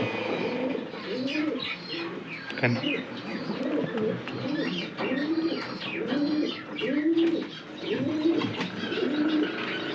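Pigeons coo repeatedly in a loft, soft rolling low calls repeating in a steady rhythm close by, with faint chirps and a person talking intermittently underneath.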